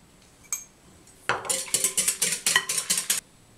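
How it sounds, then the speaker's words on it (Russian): Eggs and salt whisked in a bowl for a pancake batter: a single clink, then a quick run of rhythmic metallic beats against the bowl, close and clear, with no talking. "Яйца с солью взбиваем до пышного состояния."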